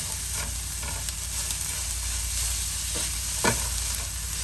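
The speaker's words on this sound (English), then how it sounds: "So this has been frying away for about 4 minutes." Onions with ginger, garlic, chili and coriander root paste sizzle steadily in a hot pan with occasional stirring scrapes, a constant crackling hiss and no voices.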